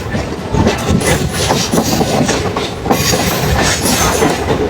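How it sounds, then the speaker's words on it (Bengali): The 12377 Padatik Express pulls out of Rampurhat station, with loud, steady rolling rumble and rhythmic clickety-clack of wheels on the track from inside the moving train. "আমাদের ট্রেন ছেড়ে দিল রামপুরহাট থেকে।"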